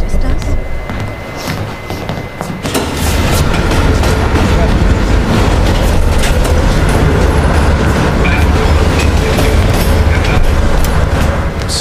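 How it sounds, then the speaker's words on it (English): A train rolling on rails in the Call of Duty Cold War video game, a loud continuous rumble and rattle that swells after a quieter opening and holds steady to the end under game sound. "Train's slowing down."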